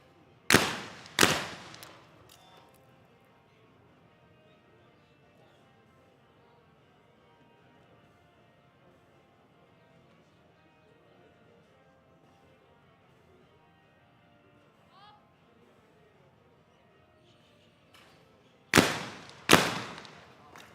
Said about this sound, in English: terrific shooting from Camwar of India